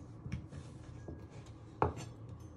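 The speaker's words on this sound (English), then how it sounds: "you just want to chop them into three" A knife chops peeled carrots into chunks on a cutting board, with a few soft knocks and one sharper, louder cut near the end, all close and without talk.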